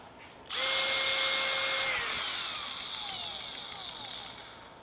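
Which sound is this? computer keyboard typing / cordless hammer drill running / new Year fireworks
cordless hammer drill running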